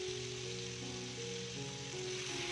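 Ground spice paste fries in hot oil in a wok, a constant steady sizzle with a background hum and some tonal music running through it, no speech.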